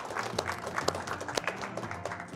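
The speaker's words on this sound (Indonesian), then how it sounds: "Kita beri tepuk tangan untuk kita semua." A group applauding together, with scattered, uneven claps that pop out over a low background murmur in a short burst.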